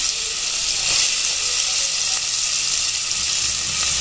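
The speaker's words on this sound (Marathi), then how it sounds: "त्यानंतर बारीक केलेला कांदा सुद्धा ॲड केलेला आहे।" Chopped onion hits hot oil already tempered with red chili and asafoetida for dal fry, a loud, dense, continuous sizzle heard up close with no speech.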